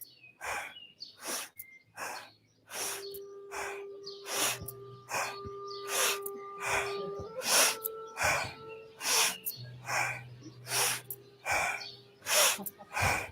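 Deep, rhythmic breaths are drawn in and pushed out during an outdoor morning yoga flow in a park, repeated sighing exhalations close by, with birds chirping in the background.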